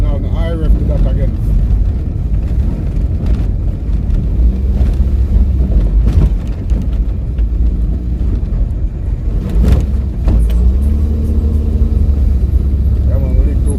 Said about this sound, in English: Now I rev to that again.